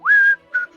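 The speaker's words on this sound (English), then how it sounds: "Whistling." A person whistles two short notes, a rising sustained tone followed by a briefer one, close and clear with nothing else around.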